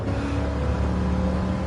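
A steady, high-pitched racing-car engine whine from Gran Turismo 7 holds at full revs without letup, a continuous drone with no voices.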